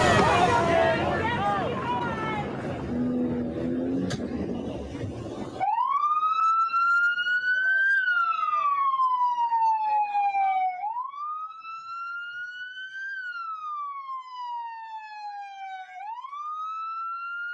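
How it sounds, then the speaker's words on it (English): A police car siren plays from a video: after several seconds of muffled crowd babble, a loud, piercing wail cuts in and rises and falls in long, repeating sweeps to the end. "that siren has absolutely blown out my eardrums."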